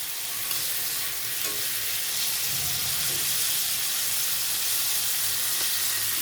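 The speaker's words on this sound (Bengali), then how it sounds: "তরকারির জন্য চুলাতে দিয়ে দিচ্ছি তেল আর পেঁয়াজ।" Frozen chopped onion frying in oil in a pan on a home stove for a vegetable curry, a dense, loud, continuous sizzle with occasional stirring scrapes throughout.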